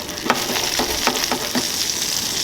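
Bacon and sausage frying in a pan on a Winnerwell Fast-Fold Plus titanium stove, a steady close sizzle with a few soft scraping or stirring ticks, no talking.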